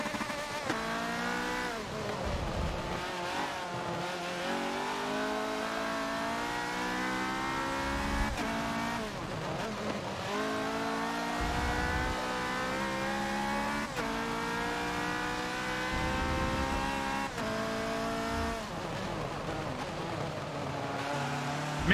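A race car's engine in the Forza racing game revs hard and climbs through the gears, pitch rising and dropping again with each manual shift, loud and steady for about twenty seconds.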